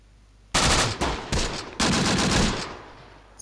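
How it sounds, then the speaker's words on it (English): Artillery shells landing in the WWII strategy game Close Combat: The Bloody First, a loud run of heavy, overlapping blasts that starts suddenly and fades away, with no voices. "Get some good hits on in with that artillery."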